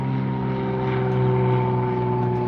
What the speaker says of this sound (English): that's a little airplane flying overhead